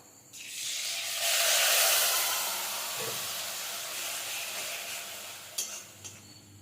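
Ground spice paste hits hot oil already fried with cinnamon and cloves, a sizzle that swells to a loud hiss, then eases off, with a few clinks near the end.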